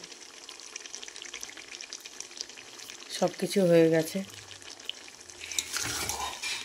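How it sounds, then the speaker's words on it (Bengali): Chicken curry being sautéed in a pan on a winter day: a steady sizzle of frying with stirring scrapes throughout, and a person speaking briefly midway. "আমি কষাচ্ছি এখানে"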